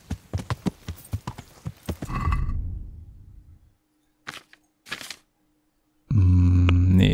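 Rapid clip-clop of a horse's hooves in Kingdom Come: Deliverance, loud and close in a quick even rhythm, then trailing into a soft rumble, a couple of short muffled thuds and a sudden loud burst at the end.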